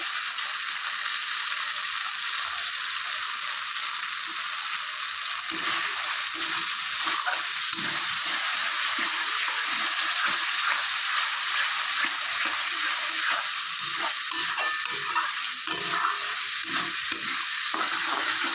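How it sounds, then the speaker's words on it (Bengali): Spices with chili powder sizzle steadily in hot oil for a fish curry while a spatula scrapes and stirs the pan, a constant bright frying hiss with intermittent stirring scrapes. "মশলাটাকে ভালো করে কষিয়ে নিতে হবে"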